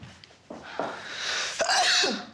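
A person sneezes several times in a row, sharp close bursts with breathy intakes between them, loud and alone in a quiet indoor room.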